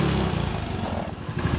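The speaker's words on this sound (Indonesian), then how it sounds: "Di starter juga mudah, spring langsung hidup motornya." A motorcycle engine turns over on its electric starter, then settles into an even, loud, close idle with a steady rapid putter, and no voices.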